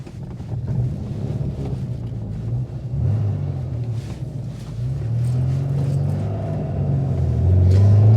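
Interior engine note of a Rover P6 2000TC pulling through the gears, heard as a steady low drone that builds gradually in volume and pitch, with wind noise over it and no talk.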